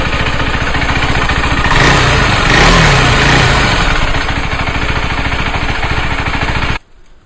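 A KTM Duke motorcycle engine idles loudly up close, hot from warming up, with a steady throbbing rumble, briefly rising in pitch, then cuts off abruptly near the end.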